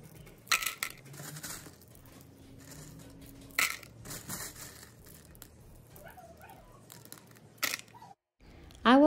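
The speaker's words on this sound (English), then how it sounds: "I will add leca or hydroton to the pot first" Leca clay pebbles (hydroton) are poured into a small plastic pot with holes in the bottom for planting Tolumnia orchids. The pour makes scattered clattering, crunchy rattles in a few short bursts between quiet stretches, close to the listener, and a voice begins at the end.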